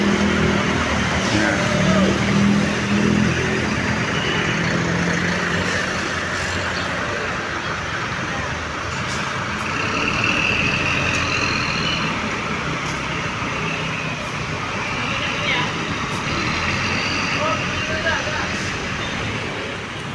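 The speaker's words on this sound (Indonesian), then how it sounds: "Nah ini itu bis 17 juga diberangkatkan ya" Harapan Jaya bus pulling out of the Ciputat depot in the morning, a loud sustained engine rumble mixed with surrounding traffic noise, while someone talks over it.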